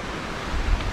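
Stream water flowing down from Mahadev waterfall in the Satpuda hills, a dense, steady rush heard close up for about a second.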